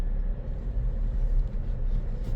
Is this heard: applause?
no